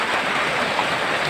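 Feet wading through deep floodwater, a dense continuous wash of splashing and churning water, loud and close with no talk.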